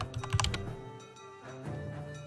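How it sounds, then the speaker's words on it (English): Loud computer keyboard typing sits close to a microphone right in front of the keyboard: a quick burst of clattering keystrokes opens the clip, then sparser taps follow under a faint background hum. "As I usually tend to type loud."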